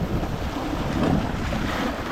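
Rough sea water churning under a bridge in Jamaica while wind buffets the microphone, a loud, dense, continuous rush with no speech.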